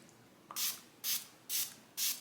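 Four short, even hissing sprays from a makeup setting spray mist bottle, evenly spaced about half a second apart, close and fairly loud.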